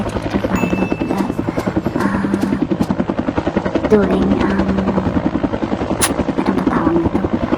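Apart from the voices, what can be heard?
firefighting helicopter flying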